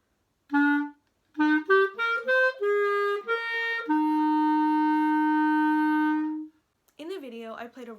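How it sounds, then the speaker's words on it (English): A clarinet plays a short run of notes, lands on a sour wrong pitch, then quickly shifts to the correct note and holds it steadily. "I played a wrong note and then I played the right note right after."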